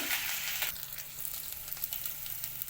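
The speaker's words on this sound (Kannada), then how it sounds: "ಈರುಳ್ಳಿ ಹಾಕೋತಾ ಇದ್ದೀನಿ ನೋಡಿ" Onions frying in a pan for North Karnataka vegetable upma make a continuous hissing sizzle, close and even, with faint stirring movements and no voices.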